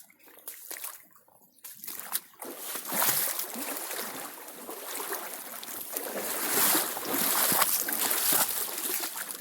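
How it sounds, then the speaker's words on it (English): A small waterfall on a creek gives off a broadband rush and trickle that builds from quiet near the start to a steady, moderately close wash. "Looks like there may be a little waterfall up here."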